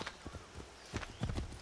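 Horse hooves clip-clop at a steady trot in Assassin's Creed 3, a quiet, close rhythm of several soft thuds across a short stretch with no talk over them.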